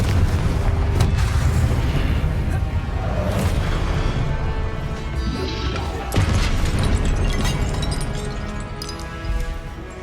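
Hogwarts Legacy on PS5 delivers heavy, booming Confringo fire-blast explosions with crashing, thudding impacts in quick succession, loud and close, with a sharp new blast hitting around the middle of a continuous rumble of combat.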